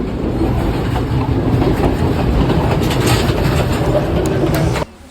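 A passenger train runs on rails in Sri Lanka, heard from inside as a loud, continuous rumble with rhythmic clickety-clack of the wheels that drops away abruptly near the end.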